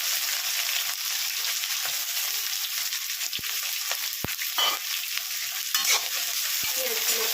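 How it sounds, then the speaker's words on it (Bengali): Onions fry in a hot pan for chicken malai curry, a loud close sizzle broken by sharp spatula scrapes and knocks as they are stirred, with no one speaking. "আমি পেঁয়াজগুলোকে আগে আমি একটু ভেজে নিচ্ছি"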